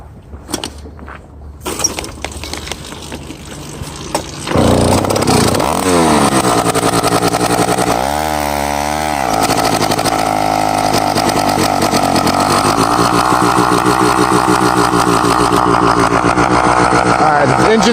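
A small 80cc two-stroke custom trail bike engine buzzes loudly nearby, revving up and down in rising and falling sweeps, with a sputtering start before it settles into a steady drone.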